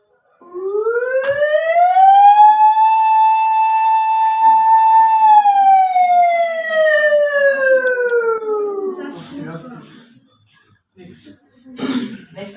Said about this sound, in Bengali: তারপর আমি অ্যাম্বুলেন্স এটা শুনাই একটু জোরে।